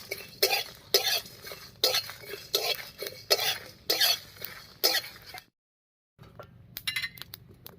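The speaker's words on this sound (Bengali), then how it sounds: "এই সব মশলাগুলো একটু ভালো করে ভেজে নেব" Whole spices dry-roast in a wok while a spatula scrapes and tosses them in a quick repeating rhythm of rough, close strokes, cutting to a moment of silence before lighter scraping resumes.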